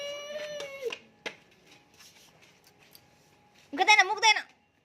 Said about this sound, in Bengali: কোথায় মেয়াওটা ডাকছে দেখো ওই যে উপর দিক থেকে